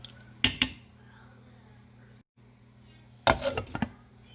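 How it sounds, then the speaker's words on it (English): Green beans get stirred in a metal pot before the lid goes on, with two short bursts of scraping and clanking a few seconds apart over a low, quiet kitchen hum. "Stir all of this up and cover it until the beans get tender."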